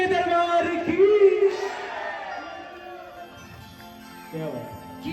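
A devotional bhajan crowd raises the Sherawali jaikara, a loud chorus of many voices shouting together in drawn-out, sung-like cries that swell, fade, then rise again briefly near the end.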